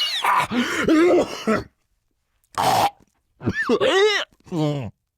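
A person coughs and gags in several harsh, throaty bursts separated by short silences, close and loud.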